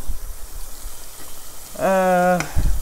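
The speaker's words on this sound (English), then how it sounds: "So the next thing I'm going to add is my tomato paste." Tomato paste drops into a hot, sizzling pan of spaghetti and meatball sauce, a steady close frying hiss with a brief voiced tone rising over it before fading.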